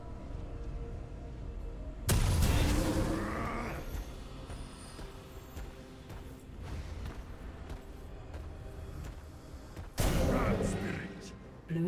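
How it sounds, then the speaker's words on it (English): League of Legends turret being destroyed, two heavy crashing blasts spaced several seconds apart over a steady bed of game noise and clatter, with no voice over the impacts. "Blue team's turret has been destroyed"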